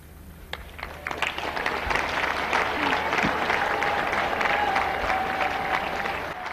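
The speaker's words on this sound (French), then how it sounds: "dans la foule, le peuple se déchaîne, applaudit un Paul Biya" A large crowd applauds and cheers Paul Biya after his address, clapping building from a sparse start into a sustained roar, with voices mixed in.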